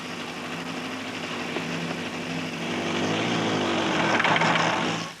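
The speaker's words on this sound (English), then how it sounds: "Next, a demonstration of braking at 30 miles an hour. First, our instructor uses the rear brake only." Motorcycle braking at 30 mph on the rear brake only during an advanced riding demonstration: a steady engine drone with harmonic hum that grows louder and rises slightly toward the end, then cuts off.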